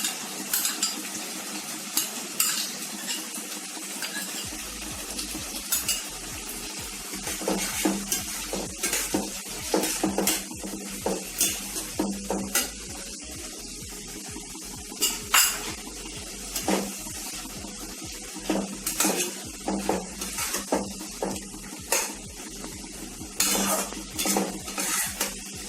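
Chili chicken stirred in a pan with tomato sauce, chili tomato sauce and soy sauce, a spatula scraping and clinking steadily against the metal over a continuous sizzle, close and busy with no talking.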